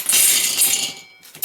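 Dried garden beans poured into a jar, a dense bright rattling cascade for about a second, then tapering to a few scattered clicks before a final brief rattle.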